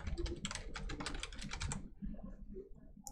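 Rapid keystrokes on a computer keyboard, a close, dense run of clicks for about a second and a half that then stops, leaving only faint room noise.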